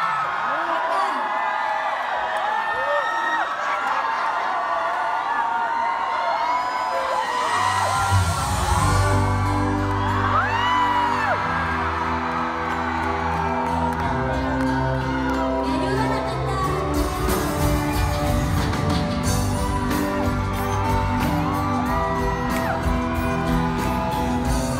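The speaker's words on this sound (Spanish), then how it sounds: "Amo cuando los fans gritan así." Concert fans scream and cheer at a medley, a constant roar of shrill crowd voices over loud music, with someone talking over it at times.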